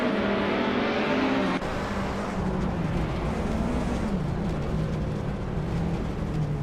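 A 2008 Lada Priora race car in a video game, its engine holding a steady droning hum with a shift in pitch partway through, running continuously at moderate level without commentary.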